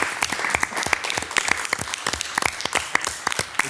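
A city council meeting audience claps in a brief burst of dense, sharp hand claps, moderately near and with no talking over it.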